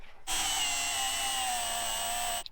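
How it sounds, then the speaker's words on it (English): A power drill spins up with a high, steady whine for about two seconds, drilling a hole for a clamp on a 1969 Dodge Delivery, close and alone, then stops abruptly. "So let's go drill a hole for that clamp."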